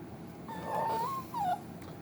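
An elderly dog whimpers and whines softly, a few thin rising and falling cries close by in a quiet room.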